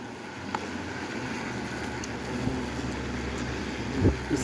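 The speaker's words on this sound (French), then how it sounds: "là je sens le vent" Steady low wind rumbles and buffets close to the microphone during an Asian hornet attack, with a few faint knocks and no speech.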